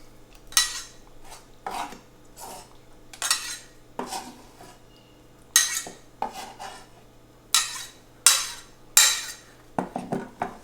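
Roughly chopped chiles scraped off a board into a bowl, a series of close metallic scrapes and clinks of a knife or utensil against cookware, coming in irregular bursts over a low background hum.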